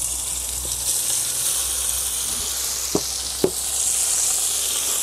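Meat sizzles steadily in hot oil for potjiekos with a constant crackling hiss, broken by a couple of sharp knocks from a utensil.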